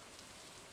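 Rain falls in the farming video game Stardew Valley, a soft, even hiss of steady rainfall with no other sounds over it.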